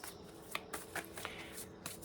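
Oracle cards for a tarot reading are shuffled close by in a quiet room, a series of soft, quick riffling slaps and card flicks at an uneven pace.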